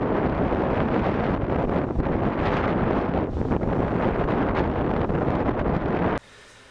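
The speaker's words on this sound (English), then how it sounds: "The winds were blowing 40, 50 miles an hour." Strong wind of 40 to 50 mph over an open lake, roaring as constant loud buffeting across the microphone from a boat before cutting off abruptly near the end.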